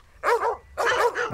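Dogs barking at a grizzly bear: two close, loud bursts of barking separated by a short pause, each holding several quick barks.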